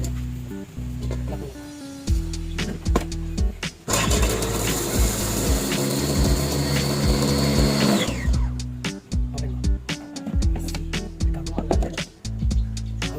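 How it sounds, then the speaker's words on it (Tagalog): A food processor whirs in a sustained burst for several seconds, finely grinding four chili peppers and a whole garlic bulb, framed by clattering and background music before and after. "Ihalo ang 4 na sili at 1 buong bawang sa isang food processor at ito ay gilingin ng pino."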